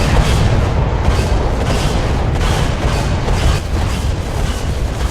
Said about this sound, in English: I think a bomb's coming in.